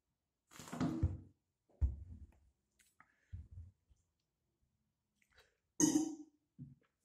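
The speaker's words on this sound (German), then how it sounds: "Und der Rülpser eben hat es auch bewiesen." Burps after drinking cheap carbonated cola: several short, low belches spread across the stretch with quiet gaps between them, one stronger and rougher near the end, close to the microphone.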